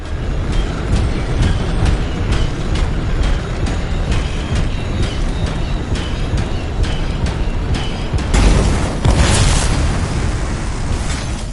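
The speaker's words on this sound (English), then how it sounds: "It'll be a contained explosion." A contained blast of canisters in the video game Anthem, heard as a loud continuous rumbling roar with rapid crackling impacts and a heavier burst near the end.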